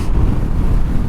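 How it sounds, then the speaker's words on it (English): Strong wind roars straight into the microphone outdoors along a street, a steady low buffeting rumble with no break and no voices. "Man, this wind is killing me."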